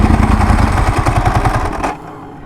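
A motorcycle engine idles with a rapid, lumpy putter, loud and close, then cuts off abruptly near the end.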